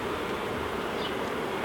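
Wild colony of honeybees (Apis mellifera) buzzing in a dense, steady drone, close and continuous, with no voices.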